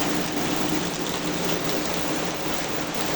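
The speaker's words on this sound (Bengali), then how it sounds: "আজকেও বৃষ্টি হইতেছে" Steady, dense rain pours down outdoors near a room under a mango tree, a continuous even hiss throughout with no voices.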